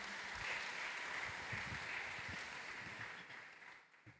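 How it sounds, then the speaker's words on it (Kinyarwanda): Sustained congregational applause in a church during a ceremony welcoming new members to a Fathers' Union, steady and dense before thinning out toward the end. "Amashyi menshi cyane ku Mana."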